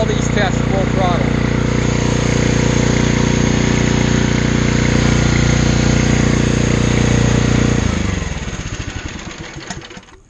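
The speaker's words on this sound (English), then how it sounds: "Notice I never turned the motor down. It's running full throttle." A gas-powered diaphragm spray pump, the AR45, runs steadily at full throttle, its loud, even engine drone holding constant before the sound fades and breaks up near the end.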